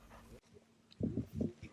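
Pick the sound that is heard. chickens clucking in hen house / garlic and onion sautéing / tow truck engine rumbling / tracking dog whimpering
tracking dog whimpering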